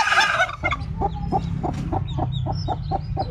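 A mother hen caged with her newly hatched chicks gives a steady series of low, rhythmic clucks, while faint high peeps from the chicks drift above them, all close by with no talk.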